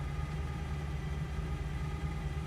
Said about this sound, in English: By the way, listen to how we're idling.